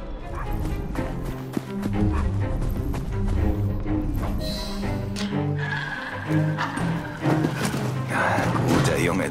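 Desmond, a dog in Assassin's Creed Syndicate, barks and whimpers in repeated yips amid a busy game soundtrack with music and clopping, someone talking over it now and then.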